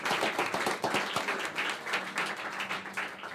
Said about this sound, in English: let's give the soccer parents a round of applause too